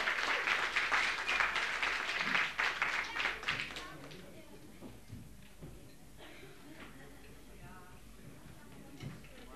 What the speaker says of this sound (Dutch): Ik wou graag een heel hartelijk applaus voor Guns N' Roses